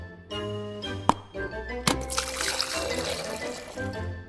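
Water poured and splashed into a glass with a sharp clink or two, then a steady close trickle and liquid fizz that runs on to the end, with no talk.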